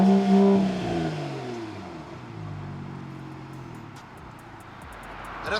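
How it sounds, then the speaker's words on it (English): A Mercedes-AMG GT 53 engine revs up sharply then winds down, its pitch falling away, with a few clicks near the end. "So we give you some revs and then we go for a drive."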